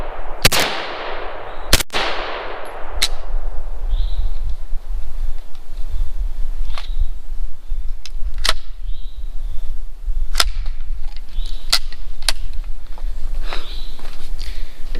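A Pac 9 pistol fires a series of sharp, irregularly spaced gunshots, two loud close reports followed by thinner cracks spread across the clip over steady outdoor background noise, with no talking.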